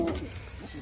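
Pigeons cooing inside a loft, a short low murmuring coo in the foreground with faint background noise and no talk.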